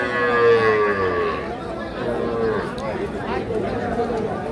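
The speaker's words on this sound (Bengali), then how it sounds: "এটা একটা ষাঁড় বাচ্চা।" A young bull calf mooing at a busy cattle market, a long, loud drawn-out bellow near at hand, with crowd chatter and people talking underneath.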